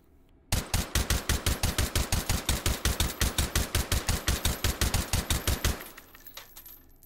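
A suppressed AR-15 SBR fires rapid semi-automatic shots in the H3VR virtual reality game, a fast even string of about thirty sharp, muffled reports that stops abruptly.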